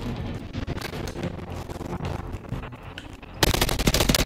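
Automatic gunfire from a heavy-recoil weapon in a Call of Duty video game, rapid bursts filling the clip and turning louder and denser near the end, with no talk.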